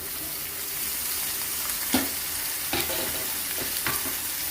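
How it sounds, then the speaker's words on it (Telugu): Cut pieces of bottle gourd dropped into a hot pan for a curry and stirred, giving a constant sizzling hiss with a few distinct scraping or clattering strokes, close by, no voices. "ఇప్పుడు ముందుగా కట్ చేసి ఉంచుకున్న సొరకాయ వేయాలి"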